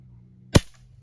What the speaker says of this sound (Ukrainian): Зробимо два постріли і подивимось на їхню швидкість.